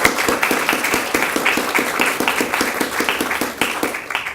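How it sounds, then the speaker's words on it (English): Audience applause follows a speaker's call at an education talk on climate, a dense, steady patter of many hands clapping close and loud for several seconds, with no voices over it. "they really should get another round of applause"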